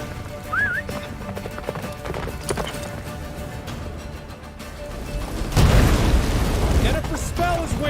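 Roach the horse galloping in The Witcher 3, steady hoof clip-clop running under wind and battle rumble, with a heavier booming surge midway and voices calling out over the ride.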